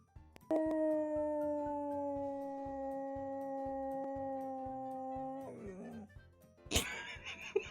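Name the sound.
dog howling as if singing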